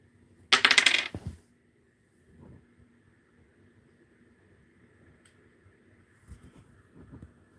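Vegas-style dice tumble and rattle in one loud, short burst near the start, followed by quiet room sounds with a couple of faint soft knocks.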